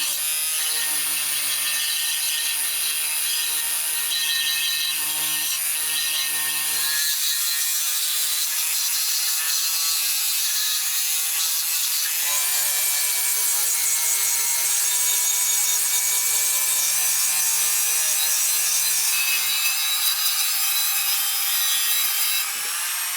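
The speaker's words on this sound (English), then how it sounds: "So let's try this brass wheel." A brass wire wheel scrubs an old metal piece at the cottage, a steady, continuous abrasive whir with a rasping high hiss that runs throughout, shifting slightly in tone as pressure changes, loud and close with no talking.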